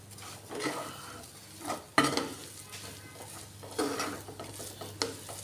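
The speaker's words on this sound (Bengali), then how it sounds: "দিয়ে আমি এটা ভালো করে ভেজে নেব।" Coarsely pounded spice mix frying in a pan for dal puri filling, with soft sizzling and repeated scraping stir strokes, a few sharper clanks of the utensil against the pan, no talking.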